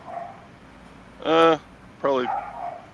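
Dogs bark from a distance in two short bursts with a pause between them, while someone talks nearby during a conversation.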